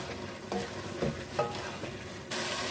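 Keema and potatoes fry in a pan while a spoon stirs them, giving a soft steady sizzle broken by a few scraping strokes, close and quiet.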